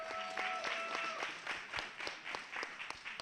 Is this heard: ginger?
no